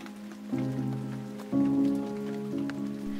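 Soft, steady rain patters in the background while gentle sustained music chords shift every second or so over it.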